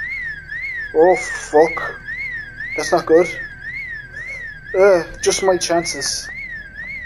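A working house alarm in the Project Zomboid video game wails nonstop in a fast rising-and-falling warble, loud and steady, while someone speaks in short bursts over it.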